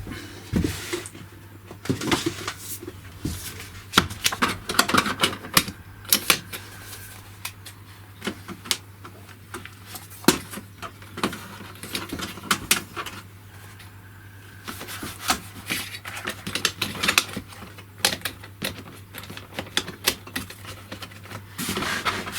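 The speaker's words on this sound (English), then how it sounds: "Right, so let's load up some paper." Paper is loaded into a Pantum M6500NW mono laser printer-copier: a long run of close rustling, rubbing, tapping and plastic clicks from the tray and paper stack, with a steady low hum underneath and no talk.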